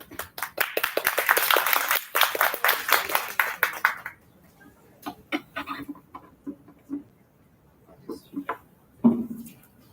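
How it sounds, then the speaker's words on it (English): Small audience applauding a keynote speaker at a Hult Prize university campus final, a few seconds of moderate clapping that fades out, followed by scattered handling noises and faint voices. "Please give her a big round of applause."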